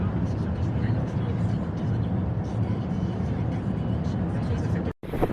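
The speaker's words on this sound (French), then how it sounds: "le bruit des voitures et le bruit du vent" Cars pass outdoors in the wind, forming a steady broadband roar of traffic and gusts that barely changes, with one momentary dropout near the end.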